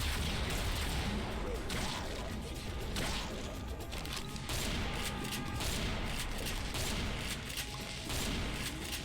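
Rapid gunfire in the video game Serious Sam Fusion, with dense, continuous bursts of shots and crashes layered over busy game noise, loud and close throughout.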